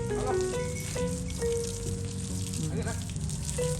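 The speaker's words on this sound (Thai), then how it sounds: "อันนี้คือน้องช้างตกมันกำลังเล่นน้ำนะคะ" A 24-year-old bull elephant in musth bathes and plays in water, giving a steady hiss of splashing and pouring water that runs throughout, with a voice and tonal sounds laid over it.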